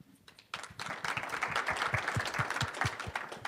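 Audience applause at a conference panel, dense clapping from many hands starting abruptly after a brief quiet moment and holding steady at moderate volume through the end.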